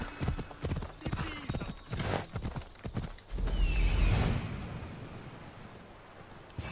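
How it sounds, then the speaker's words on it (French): A horse gallops in the video game Assassin's Creed Odyssey, its hooves beating a fast, steady clip-clop close up, with a brief whinny and rushing wind or ambience underneath. "On continue avec notre cheval au galop."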